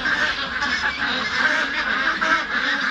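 A large flock of 47-day-old meat ducks quacks in a farm pen during a night-time harvest, a dense, continuous chorus of overlapping calls at steady loudness with no talk.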